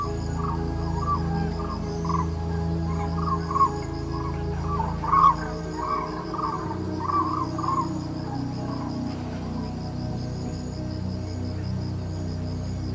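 Grey crowned crane calling in the wild: a run of repeated honking notes in a loose rhythm, moderately close, over a steady insect drone and low background rumble.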